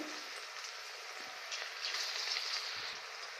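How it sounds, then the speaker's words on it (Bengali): Drumstick flower fritters fry in hot oil on a low gas flame, giving a soft, continuous crackling sizzle with small pops and no talking. "এবার আমি পেঁয়াজের মতন শেপ করে এই বড়াগুলো ছাড়লাম। গ্যাসটা কিন্তু একদম লো ফ্লেমে দিয়েছি।"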